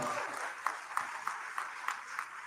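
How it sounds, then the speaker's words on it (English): Applause from a concert audience after a summer camp string orchestra performance, fairly faint and distant, a steady patter of clapping with a few sharper individual claps standing out at intervals. "Let's give them a round of applause."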